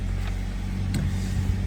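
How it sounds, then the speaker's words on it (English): The 2.0-litre boxer engine of a 2013 Toyota GT86 sports coupe runs as a steady, close low rumble, with a brief click partway through and no talk. "Fire the car up."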